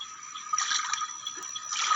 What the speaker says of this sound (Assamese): এই নদীৰ পৰা পানী সোমাই আহিছে।